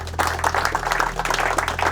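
Applause from a small crowd, a steady patter of clapping over a low hum.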